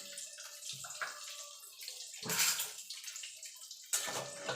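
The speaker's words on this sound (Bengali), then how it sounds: "এবার আমি 1 বাটি জল দিয়ে দিলাম" Water is poured from a bowl onto sugar in a pan to make syrup for sweet boondi, a few separate splashing pours, fairly close, with no talk.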